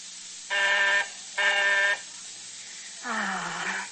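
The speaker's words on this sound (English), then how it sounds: "press the buzzer, which rings in the library downstairs" An electric buzzer in an old-time radio drama sounds twice in steady, even blasts, then a different rougher tone follows, all over a constant background hiss.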